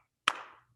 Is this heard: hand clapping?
yes